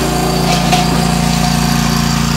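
Ferris lawn mower engine running while cutting grass, a loud, close, steady buzzing drone with a rapid pulsing rhythm and a brief swell partway through, no voices.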